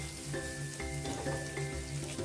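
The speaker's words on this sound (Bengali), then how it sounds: "একটু লাল লাল করে ভেজে নিতে হবে এভাবেই" Garlic frying in hot oil in a kadai, reddening as it cooks: a soft continuous sizzle close by with intermittent spits and pops, no talking.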